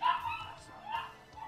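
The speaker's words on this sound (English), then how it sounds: "Darn dogs." Dogs bark and yip excitedly inside a house, heard from a short distance beneath game audio. The barks are fairly faint and come in quick bursts, with some whimpering.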